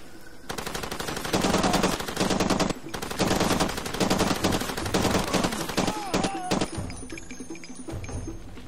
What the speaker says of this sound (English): I heard someone with a shotgun.